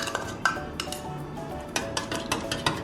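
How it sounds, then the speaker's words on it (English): Chopsticks clink and tap against a bowl while eggs are beaten, a close, irregular run of sharp clicks and scrapes with no talking. "It's a lot easier to mix eggs with chopsticks than it is if you use a fork."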